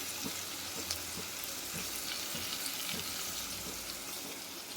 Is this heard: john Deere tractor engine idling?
no